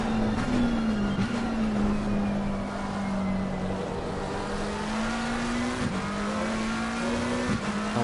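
Race cars in a sim racing game at Valencia, a steady droning engine note held throughout with small dips at gear changes, close and continuous with no talk.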